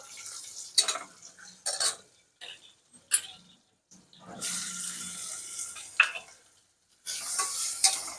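Peanuts, asafoetida and cumin sizzle in a pan for varai upma while a spoon scrapes and stirs in uneven, close bursts. Quiet gaps fall between the strokes, and a longer sizzling stretch comes near the end.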